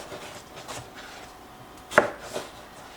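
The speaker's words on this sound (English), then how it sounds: "So I cut vertically, and now I'm going to cut horizontally" A knife cuts watermelon into cubes on a board, giving soft muffled knocks and rubbing, then a sharper single chop followed by a lighter one, close up with no talking.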